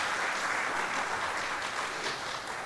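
An audience at an extension event claps in a dense, steady burst of applause, moderately loud and continuous for a few seconds.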